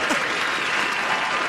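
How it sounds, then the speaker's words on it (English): Sustained applause from a large crowd greeting a political commentator, an even, continuous roar of clapping. "Where's the applause for me?"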